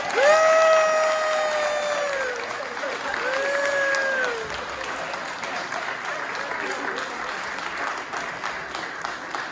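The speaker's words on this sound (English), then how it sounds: "just give a round of applause" A room full of people applauds steadily for several seconds after a performance, dense clapping with a few whistles or cheers early on, gradually thinning out.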